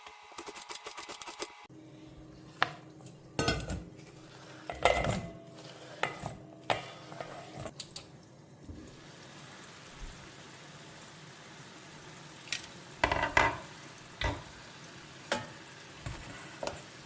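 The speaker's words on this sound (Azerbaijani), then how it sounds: "Hündüşka ətini qoyuram 2 tərəfli qızarmağa, qızarsın, mühürlənsin." Turkey pieces sear on both sides in a pan, a soft, steady sizzle running under repeated clattering knocks of a utensil against the cookware. The sizzle is fairly quiet, with bursts of scraping and tapping.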